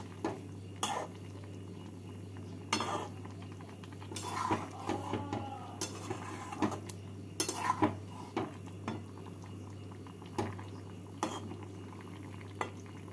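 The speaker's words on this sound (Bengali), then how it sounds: "সর্ষে গুঁড়ো আর আদা বাটা দিয়ে নাড়াচাড়া করে নেব" Ground red mustard and ginger paste being stirred in a pan for jhinge shukto, soft scraping and several sharp metal clinks of spoon against pan over a low steady hum, quiet and close, no talking.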